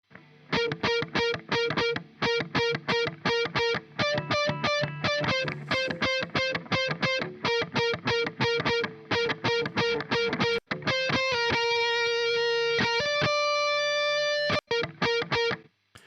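A tom drum track with a delay effect plays in a pop punk mix, loud repeated distorted hits with echoing tails in a steady rhythm, no talking.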